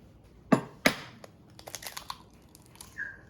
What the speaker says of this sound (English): I'm just gonna crack those eggs